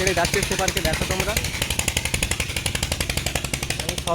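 A boat's engine chugs loudly in a steady, rapid pulsing rhythm as the boat pulls away from the riverside port. A voice talks over it.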